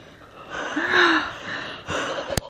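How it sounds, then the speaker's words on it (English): A few heavy, gasping breaths close to the microphone, rising and falling, ending with a short sharp click. "The heavy breathing."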